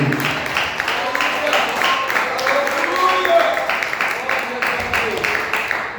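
A church congregation claps along in joyful praise, a steady crowd of hands sustained for several seconds under singing voices and background music.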